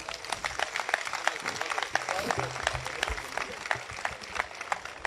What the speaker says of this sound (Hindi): कविता कैसी लगी एक बार बता दीजिए तालियां बजाकर